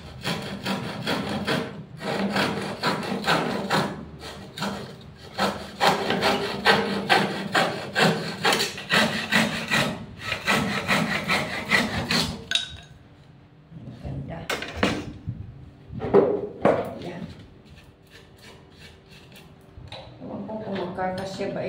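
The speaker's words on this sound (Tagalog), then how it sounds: "Ito kailangan ko itong lagariin din." A hand saw cuts wood for a pliers holder in steady rhythmic back-and-forth strokes, then stops for a few scraping and handling sounds while a voice talks now and then.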